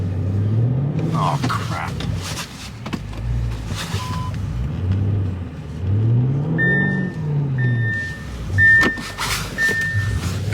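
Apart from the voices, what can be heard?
all-wheel-drive car on summer tires turning around in snow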